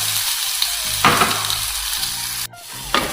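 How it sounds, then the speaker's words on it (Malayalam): Ripe mango pieces drop into a hot pan for Onam mango pachadi, hissing in sudden sizzling bursts with some stirring scrapes, close and fairly loud. "ഇതൊന്ന് ചൂടായി വന്ന സ്ഥിതിക്ക് ഞാൻ ഇവിടെ നമ്മുടെ മാങ്ങ മുഴുവനായിട്ട് അങ്ങ് ഇട്ട് കൊടുക്കുവാണ്"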